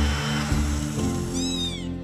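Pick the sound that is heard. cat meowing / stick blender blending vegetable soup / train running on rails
cat meowing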